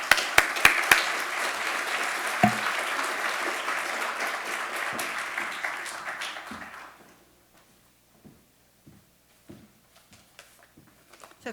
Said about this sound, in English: Please join me in a round of applause for Emily Wilson